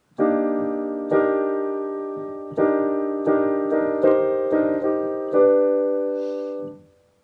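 Jazz piano four-way close-voiced chords played one after another in a slow, uneven rhythm, each a dense harmony, clean and close, the last fading out.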